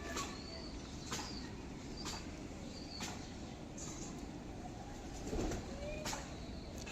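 Faint, low cooing from pigeons at a loft, repeated soft calls under a steady background hiss with occasional light clicks.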